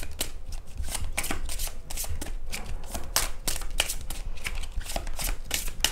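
A deck of tarot cards being shuffled by hand, giving a close, steady run of rapid flicking riffles with no talking over it.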